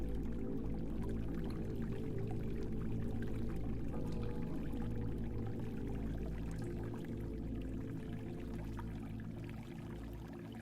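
Steady flow of water pouring out of a cave in The Longing, a continuous low rushing murmur with no breaks, moderately loud and heard alone throughout.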